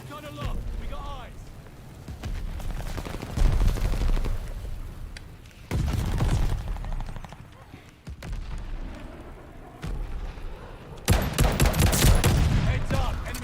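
M1 Garand rifle fired from the hip in Call of Duty Vanguard, with bursts of battlefield gunfire and explosions mixed together and someone talking over much of the shooting.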